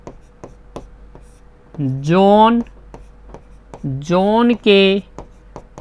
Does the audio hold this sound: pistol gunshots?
no